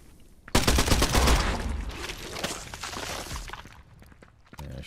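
Video game gunfire rips out in a loud, dense burst of rapid shots that fades over a few seconds, followed by a few scattered clicks.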